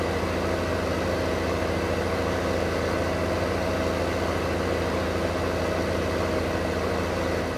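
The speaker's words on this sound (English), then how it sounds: "I was heading for the store to try out my new tractor" Tractor engine idling steadily in Farming Simulator 2015, a constant low rumbling drone with a faint harmonic hum, loud and close, running alone without talk for the whole stretch.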